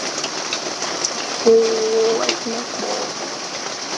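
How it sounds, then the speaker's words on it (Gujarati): Steady hiss of heavy monsoon rain falling throughout, with a short tonal hum briefly rising above it midway. "બહુ વરસાદ આવ્યા કરે કાલે રાતનાથી, આખો દિવસ ને હજુ બી આવ્યા કરે"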